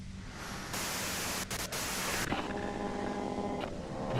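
Broadband hissing static from the video game Disco Elysium, a loud steady wash of white noise that swells and drops briefly partway through, with faint tonal streaks underneath and no talk.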